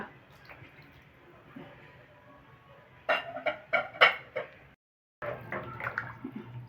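Water is poured into a pot of avarekalu sambar containing brinjal, giving a cluster of close splashing, sloshing bursts that stop briefly and then resume.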